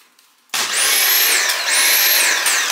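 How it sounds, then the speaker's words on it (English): A Dyson cordless stick vacuum that has been having charging trouble switches on abruptly after a moment of near silence, then runs with a loud, steady high-pitched whine and airy roar, its pitch dipping and recovering twice. "Bringing out the Dyson."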